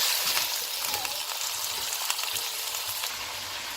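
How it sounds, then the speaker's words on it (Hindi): Ginger garlic paste frying in a hot pan, giving a steady, dense sizzle with faint crackles throughout and no talking. "इसके साथ ज़रा 2 मिनट इसको फ्राई करेंगे"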